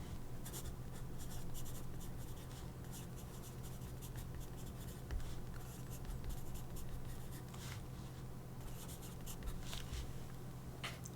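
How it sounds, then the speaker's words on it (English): A Zebra medium-tip brush pen writes on paper at close range, with soft scratchy strokes in quick bursts and brief pauses over a low steady background hum. "I'll just write Zebra Creative Starter Set."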